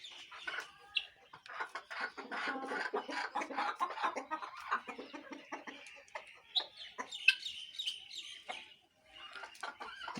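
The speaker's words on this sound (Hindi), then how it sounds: "माशाल्लाह बड़े खूबसूरत मुर्गे खड़ोते हैं देसी मुर्गे ते मुर्गियाँ।" Desi chickens and roosters cluck and chatter in a poultry coop at a home, a busy overlapping mix of clucks and short calls at close range, continuous without talk.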